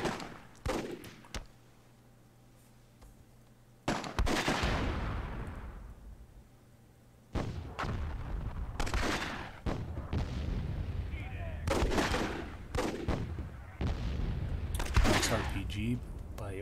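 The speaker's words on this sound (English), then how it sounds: "lobbing some RPGs, trying to destroy this ordnance right here." RPG blasts and gunfire from the strategy game Myth II Soulblighter: sharp booms and rolling explosions hit in irregular clusters, some close and loud, separated by quieter gaps.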